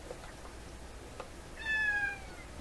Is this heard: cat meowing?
yes